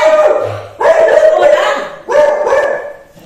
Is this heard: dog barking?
yes